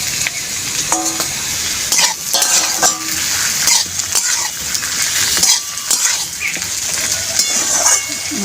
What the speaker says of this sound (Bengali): আলু বেগুনটার সঙ্গে আমি আরও একবার এই ভাজা ঢ্যাঁড়সটা দিয়ে আরেকটু ভাজবো।